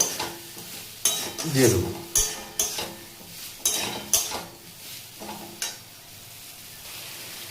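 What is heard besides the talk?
potatoes sizzling while being stirred and fried in spices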